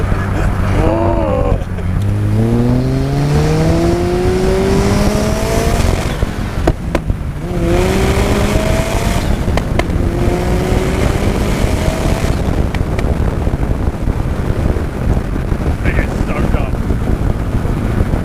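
A loud turbocharged Mazda RX-5 engine revs hard through repeated rising gear pulls, pitch sweeping upward several times, with wind buffeting throughout.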